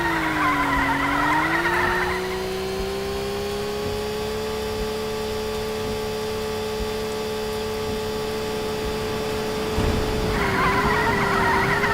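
A car drifts in the racing video game Rainy Day Racer, with a steady engine drone that rises and holds, and bursts of tyre skid noise at the start and end, loud and close with no voices.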